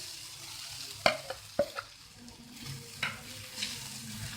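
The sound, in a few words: stirring spices in pan for spicy omelette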